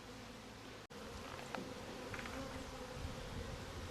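Honeybees buzzing at a beehive, a dense steady drone of many insects heard close and continuously, with no talking.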